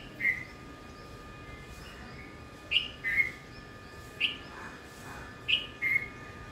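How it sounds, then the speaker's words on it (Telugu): Distant birds call with short, clear whistled chirps, mostly in pairs spaced a few seconds apart, over a quiet steady background. "మళ్ళీ ఇంకో పక్షి కూడా సేమ్ దీనిలాగా అరుస్తుంది"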